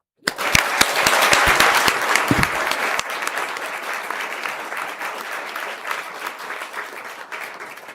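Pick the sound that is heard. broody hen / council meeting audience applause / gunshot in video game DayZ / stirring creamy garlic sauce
council meeting audience applause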